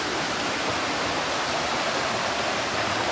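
A dense, steady rush of flowing water fills the clip, loud and close, with no pauses and no voices.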